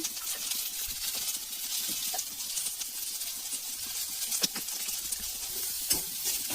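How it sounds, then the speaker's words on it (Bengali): Spices fry and are stirred in a pan, a steady close sizzle broken by scattered sharp scraping and clicking strokes throughout. "কিছুক্ষণ নেড়ে নিয়ে আদা বাটা দিলাম দিলাম জিরে গুঁড়ো"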